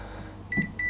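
An air fryer's control panel gives two short, clear electronic beeps a fraction of a second apart, close by, as its buttons are pressed.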